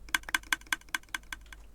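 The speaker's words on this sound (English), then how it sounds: "that's the sound of that rippling all the way up the dropper line." Rapid series of about nine sharp clicking ticks from a Minecraft redstone dropper line firing in sequence, evenly spaced and fading slightly toward the end, close and crisp with no voices.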